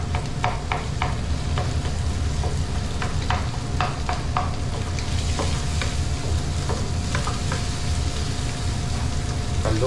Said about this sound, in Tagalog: Halo na natin yung itlog.